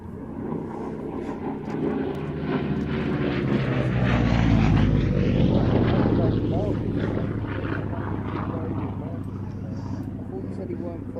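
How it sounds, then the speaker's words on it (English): A Yak-11 propeller aircraft flies past high overhead at an air display, its engine drone swelling and fading over several seconds beneath steady commentary. "high up to your left, the Yak 11"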